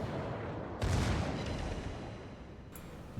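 A broadside of warship main guns fires in World of Warships, with the King George V battleship nearby: a loud, deep boom that rolls and fades over a couple of seconds, followed by a fainter, sharper report near the end.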